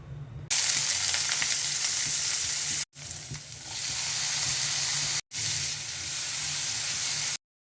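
One chopped onion and one tomato fry in a spoonful of hot oil, hissing and sizzling loudly and steadily up close, broken by two short cuts of silence.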